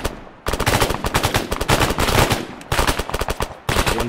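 Gunfire in Arma 3 during a zombie attack in New York City: sustained loud, close automatic bursts with brief pauses between them.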